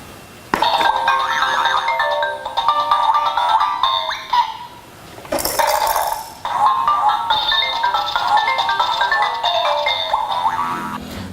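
A Fisher Price Rainforest Jumperoo activity toy plays a bright electronic tune with chimey melodic notes, loud and close, pausing briefly midway before the melody resumes.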